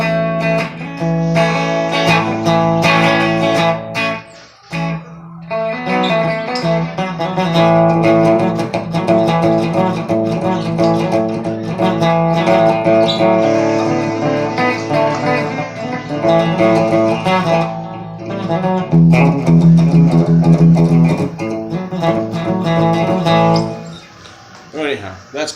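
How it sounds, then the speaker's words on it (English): An electric guitar plays through a Marshall Code 25 amp on a vintage clean setting with reverb. The chords and notes ring steadily and fairly loud, with only brief pauses. "It's just basically vintage Marshall clean with some reverb."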